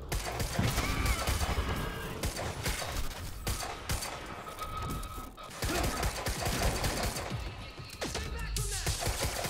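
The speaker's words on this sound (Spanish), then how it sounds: "estoy hinchando a tiros ahí de parla" Gunfire from the video game Quantum Break comes as dense, continuous bursts of shots and crashes, loud throughout, in an intense firefight with vocal sounds mixed in.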